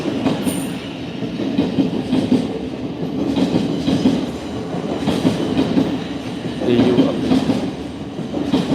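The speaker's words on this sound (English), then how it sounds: "Okay, another train." A train rumbles past for several seconds, loud and steady with rhythmic clatter of wheels on rails and a light squeal at the start, heard from fairly near.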